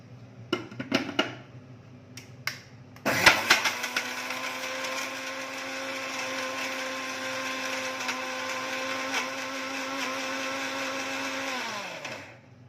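A mixer grinder runs on wet masala paste for bamboo shoot sambar, starting after a few clicks and knocks, whirring loudly and steadily for about nine seconds before winding down.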